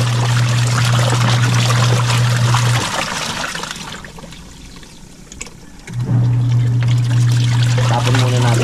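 Laundry wash water is poured out of a basin before soap is added, a loud close splashing pour that eases to a quieter trickle midway, then surges again beside a steady low hum.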